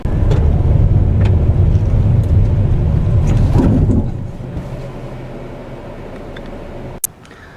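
A 2016 Mazda 6 Grand Touring rolling and braking automatically to a stop, steady road and engine rumble that drops off abruptly as the car halts, then quiet idle with a single sharp click near the end.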